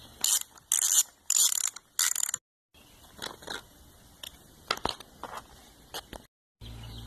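Air filter cover being removed from a Stihl chainsaw, heard as several sharp ratcheting and clicking bursts close up, followed by scattered plastic clicks and handling noises.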